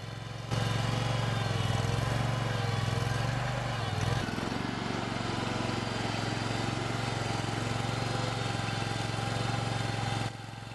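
Oggun tractor engine running steadily in a farm field in Alaska, a loud, even low-pitched mechanical drone with a brief dip in the middle, continuous from start to finish.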